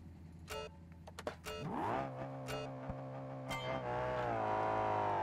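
A race car on the Monaco Grand Prix circuit in the BeamNG driving game, with a few sharp clicks and then a rising engine whine that climbs and holds steady as the car accelerates, continuous and clear.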